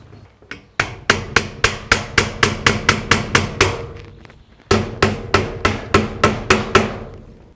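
Joist hanger nails driven by hammer into the wooden end pieces of a raised garden bed: two runs of sharp, loud, evenly spaced blows, close up, with a short pause between runs and no talk.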